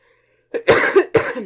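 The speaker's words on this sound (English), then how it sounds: "there's that cough again" A few harsh coughs close by, two quick bursts and then another after a short pause.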